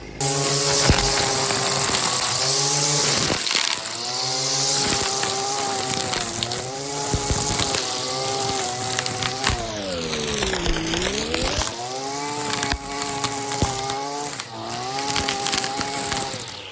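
Husqvarna 330LK string trimmer running titanium core line, its two-stroke engine whining steadily close by, with a brief dip and rise in pitch as it cuts through plants; no talking.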